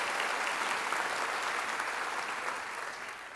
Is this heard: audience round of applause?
yes